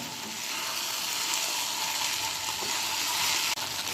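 Okra (bhindi) frying in a pan makes a steady, dense sizzle with faint stirring scrapes, held close and even from start to finish with no voices over it.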